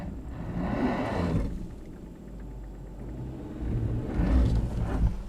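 A Hyundai Santa Fe XRT in locked four-wheel drive crawls over off-road terrain, its engine rumbling low and rising in two louder surges at the start and end, close and with no talk.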